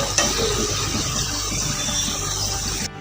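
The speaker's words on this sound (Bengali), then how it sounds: "গুলগুলোগুলো আমি ভেজে নিচ্ছি।" Gulgula fritters made from flour fry in hot oil, a dense, steady, loud sizzle and bubbling heard close up that cuts off briefly just before the end.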